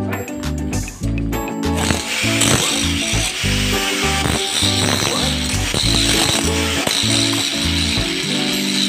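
Electric grinder cutting metal during installation of a Goulds SJ15 deep-well pump, a loud near buzzing whine that pulses in short repeated strokes, steady throughout with a rough rattle.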